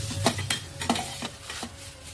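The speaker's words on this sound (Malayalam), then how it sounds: "അതേ നെയ്യിൽ തന്നെ ക്യാരറ്റും നന്നായിട്ട് വഴറ്റി മാറ്റി വെക്കണേ." Grated carrots sauté in ghee in a pan, with soft scraping stirs repeating every half second or so over a faint, gentle sizzle.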